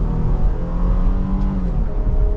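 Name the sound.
2023 Jeep Grand Cherokee V6 accelerating at half throttle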